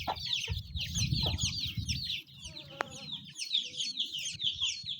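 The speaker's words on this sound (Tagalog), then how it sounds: "So, may chicken." Several chickens cluck and chatter close by through the whole stretch, steady fowl calls with occasional louder squawks, alongside faint background rustling on a farm.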